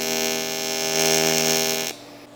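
A tack weld made with a TIG torch on an aluminum rod rack using 4043 filler rod, giving a steady, loud electric buzz with a strong hum for about two seconds before it cuts off abruptly.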